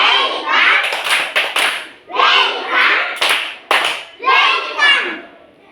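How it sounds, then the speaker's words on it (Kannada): Schoolchildren perform a welcome clap routine, loud rhythmic groups of sharp claps between chanted sung phrases, close and energetic, repeating in a regular pattern. "ವೆಲ್ಕಮ್ ಚಪ್ಪಾಳೆ."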